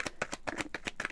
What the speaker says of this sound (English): All right, one more shuffle and then